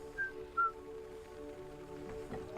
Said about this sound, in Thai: ใครมันมาผิวปาก